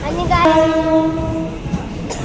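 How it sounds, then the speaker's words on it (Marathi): A Mumbai local train pulls in at a terminus, its loud horn sounding a steady harmonic blast for about a second over the rumble of the arriving carriages. "आणि ट्रेन आली बघा"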